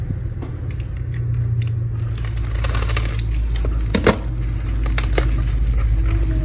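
A bubble-wrapped package holding a Star Wars artisan keycap for a mechanical keyboard is opened up close, with crinkling plastic, snips and sharp crackles in irregular bursts over a steady background hum.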